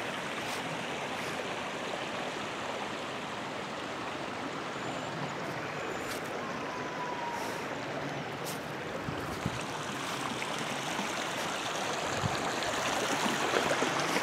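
Water rushes in a steady broadband wash from a filled-up stream running toward a river, continuous and fairly close, with occasional light knocks and no talking.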